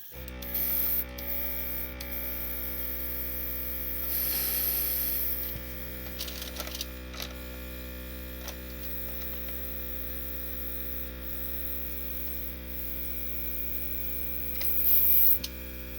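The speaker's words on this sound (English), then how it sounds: "I'm going to turn the compressor up to max for the cleaning." A Gaahleri Seeker airbrush compressor runs flat out at max, giving a steady, close mechanical drone with a constant low hum. A brief airy hiss of spray rises partway through.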